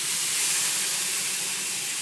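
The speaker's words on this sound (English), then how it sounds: "I can even add some water once in a while if I like, just to steam it" Water splashed into a hot pan of Indian zunka sizzles into a steady, close steam hiss that holds level throughout, with no talking.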